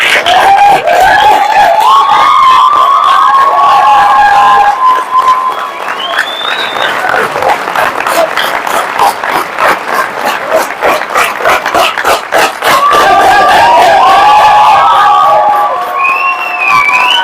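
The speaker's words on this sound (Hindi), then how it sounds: "अरे ताली वाली बजाओ तो" Large seminar audience applauding and cheering at a business motivational event, loud sustained clapping with shouts and whistles throughout, swelling and dipping in waves.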